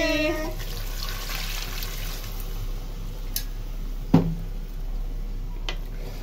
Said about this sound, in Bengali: এই তো ঝোলের পানি দিয়ে দিচ্ছি